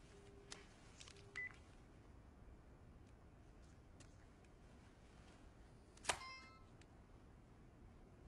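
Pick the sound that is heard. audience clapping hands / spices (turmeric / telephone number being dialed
telephone number being dialed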